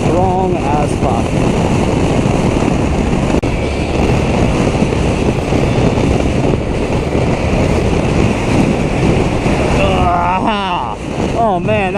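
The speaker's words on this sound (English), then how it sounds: "wow, this wind is getting strong as fuck" Strong wind buffets the microphone continuously while riding a motorcycle through downtown Scottsdale, Arizona, a loud steady roar with a heavier gust near the end and faint voice-like tones underneath.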